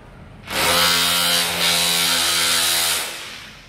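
A power drill boring an anchor hole for an HKD anchor installation, a loud, close whining burst of about two and a half seconds with a brief dip midway, then stopping.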